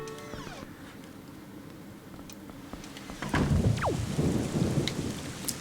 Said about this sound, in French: C'est bon d'avoir un peu de pluie de temps en temps